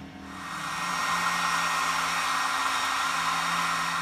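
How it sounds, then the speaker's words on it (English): A hair dryer blowing on a dump truck's hood to warm the metal before painting, its whirring motor rising at the start and then holding a steady, close, continuous hum. "I had the hair dryer on here just to kind of warm this up a little bit"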